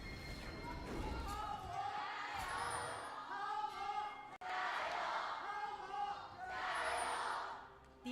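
The esports arena crowd at the 2024 LPL Spring Split, during game two between Top Esports and Weibo Gaming, cheers in loud, swelling waves with brief dips, while a commentator talks over it.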